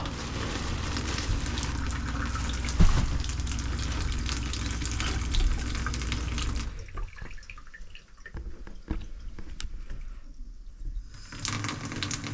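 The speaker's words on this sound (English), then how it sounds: "We're going to turn on the bathtub water." Steady broadband rush of water pouring from a bathtub tap in a toy hauler trailer, loud and continuous at first, then thinning to softer trickles and drips before the flow swells again.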